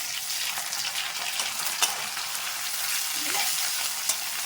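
Onions, green chillies and curry leaf stems frying in a pan for chicken fry, giving a steady loud sizzle throughout with occasional sharp clicks of a spoon against the pan.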